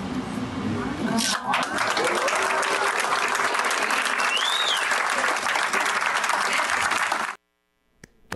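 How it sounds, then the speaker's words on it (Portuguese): Applause from a gathering at a traditional bar, with broadband clapping that runs steadily for about seven seconds under chatter and voices, then cuts off suddenly. "Também aplauso, porque merece realmente"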